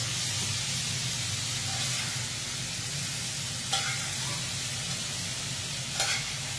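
Flap steak fajitas sizzle steadily in a cast iron skillet, a continuous close frying hiss with a low hum underneath and a couple of brief sharper crackles.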